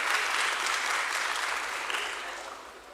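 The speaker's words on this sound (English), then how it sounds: "You guys deserve a round of applause." Dense applause from the audience at a stock exchange listing ceremony starts full and steady, then slowly fades over a few seconds.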